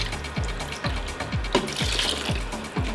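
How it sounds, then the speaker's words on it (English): Water pours from a tap into a pot for Korean braised beef short ribs (galbi jjim), a loud continuous gushing fill with bubbling glugs that rise in pitch as the pot fills, with no talking. "Add 4 cups of water."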